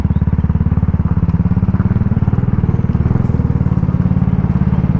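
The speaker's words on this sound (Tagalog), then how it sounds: "Ang daming motor." Motorcycle engines thrum steadily and loudly in busy street traffic, a close, continuous pulsing drone with no talking over it.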